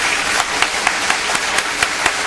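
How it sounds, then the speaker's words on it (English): A small group claps during a morning talk show segment, a quick run of evenly spaced handclaps over a roomy background. "Those claps kind of cut off real fast"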